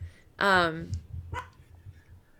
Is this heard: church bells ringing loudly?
no